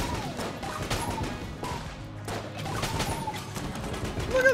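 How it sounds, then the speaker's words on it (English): Video game gunfire and explosions in Enter the Gungeon, rapid bursts of shots, crashes and blasts layered in quick succession at moderate loudness, with no talk over them. "All I see is explosions and dust."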